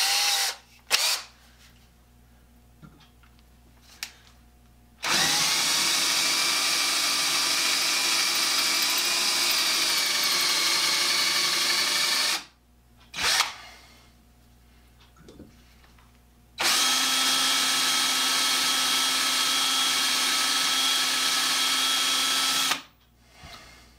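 A small electric drill with a bent shank, being straightened for making a rivet staking anvil, whirs in two long sustained runs of about seven seconds each. Short pauses and clicks come between the runs, and the drill is close and loud.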